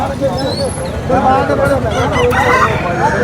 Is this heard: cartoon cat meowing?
no